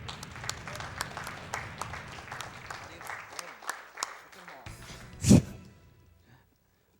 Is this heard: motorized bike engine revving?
no